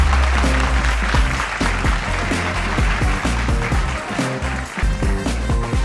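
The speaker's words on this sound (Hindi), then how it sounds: "जोरदार तालियों के साथ स्वागत करिए" A studio audience applauds loudly to welcome an Indian educationist onto a talk show stage, a dense, steady burst of clapping that carries on throughout without talk.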